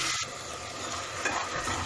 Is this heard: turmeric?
yes